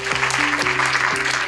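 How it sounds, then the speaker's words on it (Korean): Applause from a seated audience at an academic society's spring conference, steady and continuous, with a faint tonal hum underneath and no talk. "큰 박수 부탁드립니다."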